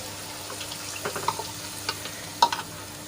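Garlic and spice paste being stirred into frying oil for a Kathiyawadi garlic curry, with a faint soft sizzle and a few light, scattered stirring clicks close by.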